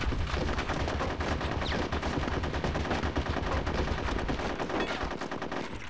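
Rapid, continuous gunfire in the Conker's Bad Fur Day video game, dense bursts of shots rattling on without pause at a loud, steady level.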